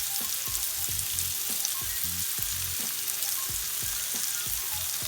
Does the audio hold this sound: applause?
no